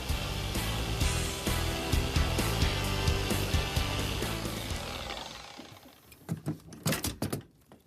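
A polishing machine buffs the factory paint on a car body, working around trim, corners and edges with a steady, loud whirring drone for about five seconds before winding down into scattered clunks and knocks.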